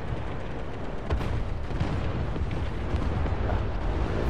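A tank is destroyed in a tank battle video game, giving a dense, sustained explosive roar with low rumbling booms that fills the whole stretch at a steady, loud level.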